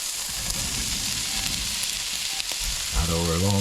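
Dried shrimp stir-fried in a pan for a long bean dish sizzle loudly and steadily up close, with a brief tonal, voice-like sound rising over the frying at the very end.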